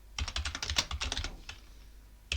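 Typing a terminal command on a computer keyboard on Debian Linux, a quick burst of crisp, close key clicks and then a single tap after a short pause.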